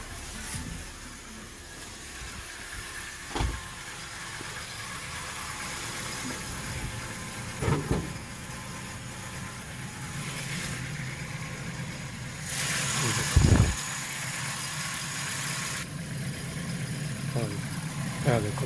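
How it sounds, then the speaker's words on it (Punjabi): A used car engine with a newly replaced water pump idles in a steady, low, quiet hum, broken by a few brief thumps and clicks, with faint voices in the background. "ਹੁਣ ਇੰਜਨ ਚੈੱਕ ਕਰਨੇ ਆ।"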